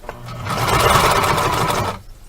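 Sewing machine stitching in reverse through cornhole bag fabric, a steady loud mechanical whirr running for about two seconds before stopping abruptly.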